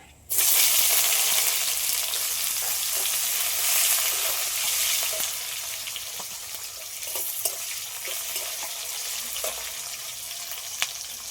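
Chopped onion hits hot oil with bay leaf, cardamom, cinnamon and cloves, giving a loud continuous sizzle that eases slightly and keeps crackling steadily, with a few faint clinks.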